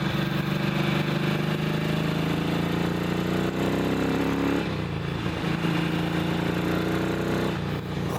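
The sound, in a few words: vintage Ducati motorcycle engine running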